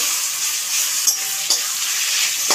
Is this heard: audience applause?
no